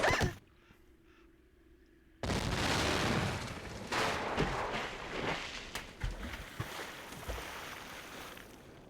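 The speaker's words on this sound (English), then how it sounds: "Whoever threw that ice ball at me must have set off an explosion that shattered the ice." A sudden explosion shatters ice in a Nancy Drew video game set at an icy creek, bursting in after a quiet stretch, then a loud sustained roar of breaking with repeated sharp cracks and crashes.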